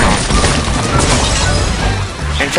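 Bomb bird explosion in the Angry Birds 2 mobile game, a loud, dense burst of crashing and smashing debris that fills the whole moment without a break.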